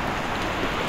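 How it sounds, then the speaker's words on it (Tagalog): Heavy rain pours down in a dense, steady hiss near a pond, loud and continuous with no voices. "Maganda dito, lakas ng ulan."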